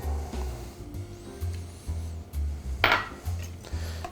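Mayonnaise and buttermilk being whisked in a bowl, giving a repeated low scraping and knocking in a steady rhythm, close and fairly quiet, with a few brighter clinks of metal against the bowl.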